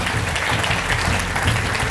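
An audience at an awards ceremony applauds the five nominees, a steady, dense patter of clapping hands filling the room without a break.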